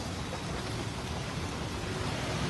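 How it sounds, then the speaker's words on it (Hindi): Heavy monsoon rain pours down steadily around Minto Bridge in Delhi, a dense unbroken hiss of drops on roads and surfaces with a low rumbling undertone, no voices heard. "पिछले 1 घंटे से बारिश हो रही है"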